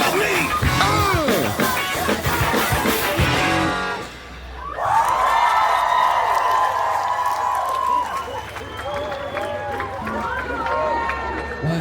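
Live crowd roars, whoops and cheers after a rock band's cover, a dense sustained wall of audience noise that dips briefly, then swells again with shouting voices before easing off.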